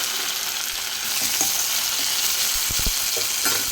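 Small fish frying in a covered pan over a low flame give off a steady, loud, dense sizzle, with a few soft low knocks near the end.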